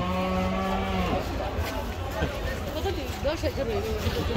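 A cow lets out a long, loud moo at a cattle market in Dholaikhal, followed by a busy crowd of voices and chatter nearby.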